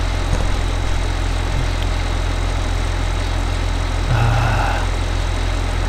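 A tractor engine idles in a farming video game with a steady, loud, low rumbling drone and constant vibration, joined near the end by a short higher tonal sound.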